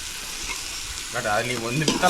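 Paste fries in a pan for home-cooked chicken biryani with a loud, close, steady sizzle and stirring, joined midway by a voice talking over it.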